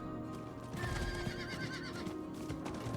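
A mount horse in the video game Diablo 4 whinnies loudly over steady clip-clop hoofbeats and ambient game sound, close and continuous with no talk.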